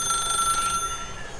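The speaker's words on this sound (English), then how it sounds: "I'm not picking up the phone. It gotta get disconnected sometime." Telephone ringing inside The Stanley Parable video game, a steady electronic bell tone that rings on for the first half and then cuts off, leaving low background hum, with no talking.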